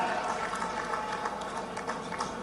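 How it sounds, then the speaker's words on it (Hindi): A crowd at a farmers' rally in Harda applauds steadily, a dense wash of clapping that stays even and fairly loud from start to finish. "जोरदार ताली बजाओ"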